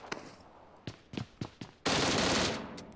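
Gunfire from an M16 rifle in the mobile battle-royale game PUBG Mobile: a few separate single shots, then a sustained loud burst of automatic fire near the end.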